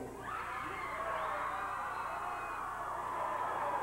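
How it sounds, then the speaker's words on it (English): An arena crowd at a 1989 Stampede Wrestling event cheers and shouts in a steady, continuous roar, moderately faint and heard throughout without any clear talk over it. "Well, you can hear the crowd."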